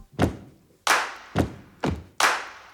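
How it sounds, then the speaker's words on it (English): Stomp and clap pattern programmed from samples in Logic: five sharp, punchy hits alternating low thuddy stomps and bright claps, each with a short decaying tail, spaced in a steady rhythm, close and alone. "stomp and clap track."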